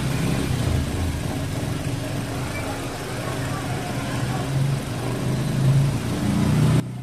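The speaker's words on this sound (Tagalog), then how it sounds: "Nagkaroon siya ng malakas na vibration or palya dito sa makina." A Mitsubishi Montero or Suzuki Ertiga engine idles roughly and unevenly with a misfire and strong vibration, a steady low rumble that occasionally stumbles and swells, heard up close.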